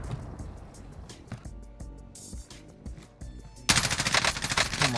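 Gun fire in the video game Warzone: scattered shots and bursts, then a loud, close, rapid automatic volley in the final seconds, with no talking over it.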